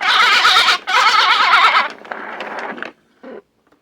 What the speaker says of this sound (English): The sheep goes.